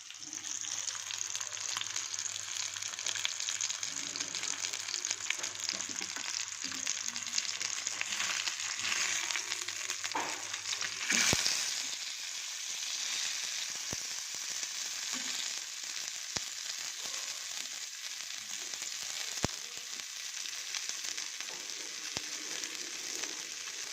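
Sankara fish frying in oil on a dosa tava, a steady close hiss and crackle of sizzling oil lasting throughout, with a few sharp clicks and one brief louder burst partway through.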